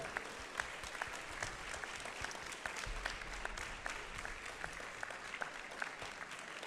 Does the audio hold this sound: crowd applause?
yes